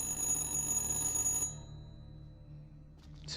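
A phone rings insistently in the horror video game Little Hope, a bright ringing tone that cuts off after about a second and a half, leaving a low ambient drone.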